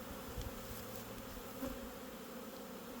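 Steady, faint buzzing of many honeybees flying around a hive being moved into a new box, a continuous insect drone with no voices.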